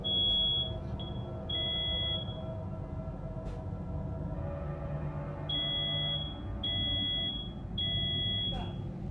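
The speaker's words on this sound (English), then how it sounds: "Is that fire alarm?" Fire alarm beeping indoors: several sustained high electronic tones come in bursts, some long and some clipped, repeating with pauses over a low household hum, fairly loud and steady.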